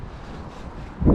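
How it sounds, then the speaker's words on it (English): Steady low rumbling buffeting of wind against a microphone, swelling into a louder gust at the very end. "Sorry about the wind. It's like super windy today."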